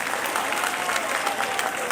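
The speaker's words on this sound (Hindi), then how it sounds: "इनके लिए तो बहुत सारी तालियाँ होनी चाहिए।" Short burst of crowd applause at a mushaira poetry gathering in Jahanian, dense clapping from many hands at moderate loudness, with no talk over it.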